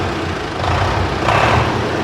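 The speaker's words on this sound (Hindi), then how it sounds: "ये 60 HP डेविड ब्राउन की आवाज़ है भाई।" A 60 HP direct-injection diesel in a 1972 David Brown 990 tractor runs loud and close, holding a steady roar that swells slightly as the revs are raised.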